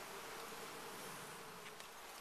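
A dense, continuous buzzing of many honeybees during a beehive inspection fills the clip, steady and close with no voices.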